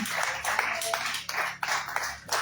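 Church congregation applauding together, a dense wash of many hands clapping at close range in irregular rolling bursts, loud and continuous for a couple of seconds.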